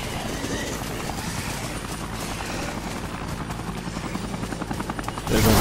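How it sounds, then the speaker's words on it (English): Helicopter in the Dead Rising video game, a continuous rapid rotor chop and engine drone with game noise around it, fairly loud throughout and swelling briefly at the very end. "Because, the bloody helicopter."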